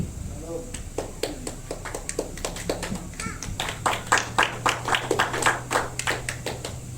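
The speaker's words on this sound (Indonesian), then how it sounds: "Cuma 4 orang yang tepuk tangan." A handful of people clap in a church service, sparse, uneven claps spreading over several seconds and growing a little denser toward the end, with no talking over them.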